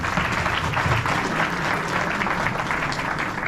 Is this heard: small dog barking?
no